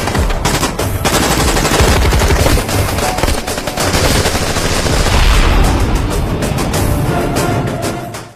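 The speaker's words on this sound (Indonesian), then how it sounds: "Baku tembak dan aksi pengejaran berjalan sangat menegangkan." Dense, continuous machine-gun fire and gunshots from a battle scene in an Indian film, loud and close with overlapping bursts, booms and rattling that run without pause until a sudden cutoff at the end.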